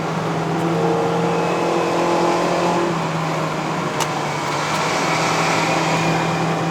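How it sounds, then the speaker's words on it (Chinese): A 2012 Honda Civic FB 1.8S engine pulls steadily uphill on a mountain road in Malaysia, a constant loud cabin drone and road roar with a rising engine tone and no break throughout. "它的引擎声哦"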